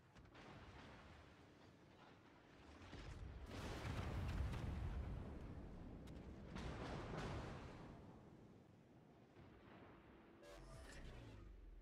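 Heavy naval guns of warships in World of Warships fire in a few deep, rolling blasts, each swelling into a long rumbling boom, with a sharper crack near the end against a quiet battle backdrop.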